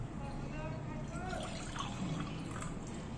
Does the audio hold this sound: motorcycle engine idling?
no